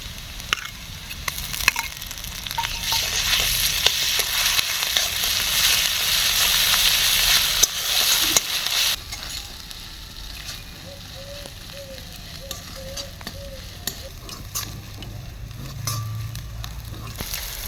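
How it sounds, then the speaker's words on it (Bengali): Ginger garlic paste frying in a pan with reddish-browned onions for mutton-fat ghugni, a steady broad sizzle that swells for several seconds, then settles into a quieter crackle with occasional stirring scrapes. "এখন আদা রসুন বাটা দিয়ে দেবো"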